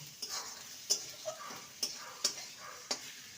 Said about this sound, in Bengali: মশলাটাকে ভালো মতো কষিয়ে নেব